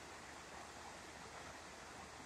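Creek water flows steadily in a fire-scarred brush and timber area along Highway 26, a continuous broadband rush that holds even throughout, moderately near and with no voices over it.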